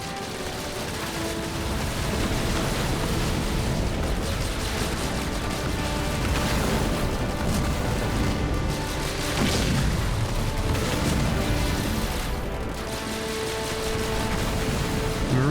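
Banshee shots and explosions in a Halo Wars 2 tournament battle, a dense, continuous roar of booms and blasts with steady weapon fire throughout and no voices.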